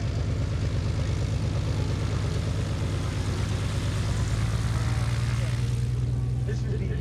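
A German propeller trainer airplane drones steadily overhead at an air show, its engine a loud continuous hum with pulsing low rumble throughout, shifting slightly in pitch near the end.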